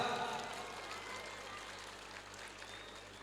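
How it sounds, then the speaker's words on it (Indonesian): Students clapping during a school flag ceremony at SMA Plus PGRI Cibinong, a dense, continuous patter of many hands heard from a distance, fading slightly over its few seconds, with faint voices underneath. "Tepuk tangan untuk mereka berdua."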